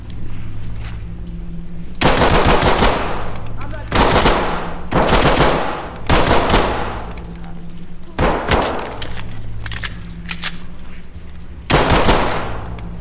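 Gunfire in the video game Ready or Not, with loud, sustained bursts of automatic fire arriving in several long volleys separated by short pauses, close and harsh with metallic ringing.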